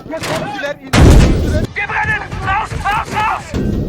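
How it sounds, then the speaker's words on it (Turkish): A loud, booming tank explosion in the video game Squad bursts out once amid excited shouting voices that talk over much of the clip. "Patladı bakın patladı patladı patladı."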